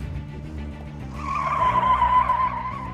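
A car brakes hard after cutting in, its engine rumbling before the tires break into a loud, sustained squealing skid that holds for over a second.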